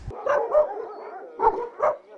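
A dog at an animal shelter barks in a few sharp, close bursts spaced across a couple of seconds, with brief pauses between them.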